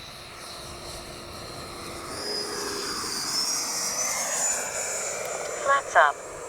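An RC model F9F-8 Cougar jet flies a slow pass down the runway, its turbine whine rising and sweeping steadily as it approaches and passes, with a couple of brief louder bumps near the end.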